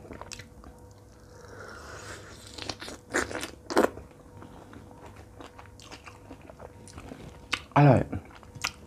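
Chocolate-coated strawberries are bitten and chewed close up, with a few crisp cracks of the shell followed by soft, wet mastication, and a short spoken word in between.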